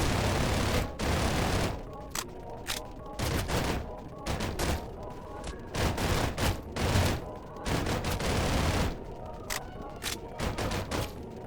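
Rapid bursts of gunfire from the Roblox shooter game Arsenal, with repeated volleys of shots and short gaps between them, sounding loud and close throughout.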